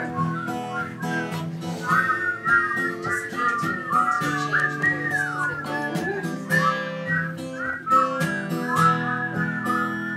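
A person whistles the melody of a familiar song, loud and near, in a lively stream of sliding notes over soft background guitar-like accompaniment.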